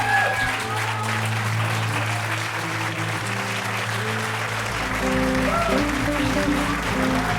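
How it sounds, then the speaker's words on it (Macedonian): Studio audience in a television talk show breaks into warm, sustained applause, a dense wash of clapping that runs throughout over a steady background hum and stays fairly loud and close. "дајте еден топол аплауз за Саша Ковачевиќ"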